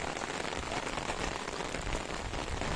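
Steady rain pattering on surfaces at Aulo Dam, a dense, even hiss of drops close by that runs without a break for the whole stretch, with no voices over it.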